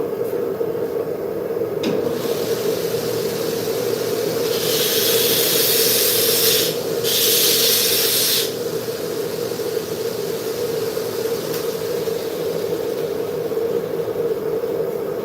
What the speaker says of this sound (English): what you guys just heard was my belt sander taking an old resin glue tag off of that